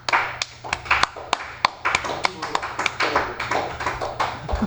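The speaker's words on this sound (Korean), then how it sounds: "박수" One person, or a few people, clap by hand during a Korean CAD lesson on modelling a V-belt pulley keyway. The claps are sharp and close, uneven in rhythm, over a low steady hum, with no speech.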